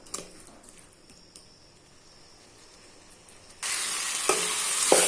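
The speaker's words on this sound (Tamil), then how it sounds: "மிக்ஸ் பண்ணி விட்டு இது நல்லா கொதித்து இது எல்லாமே ஒன்று சேர, உப்பு காரம் எல்லாம் ஒன்று சேர வேகட்டும்." Elephant foot yam gravy in a pan, with quiet stirring clicks and scrapes at first, then a sharp rise into a loud steady sizzle and bubbling with a few utensil knocks.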